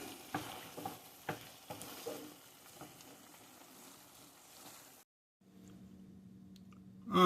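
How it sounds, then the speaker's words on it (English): A spoon stirs food in a pan with soft scraping and a few sharp clicks over a faint sizzle. After a brief silent gap, a low steady hum follows. "Keep stirring it."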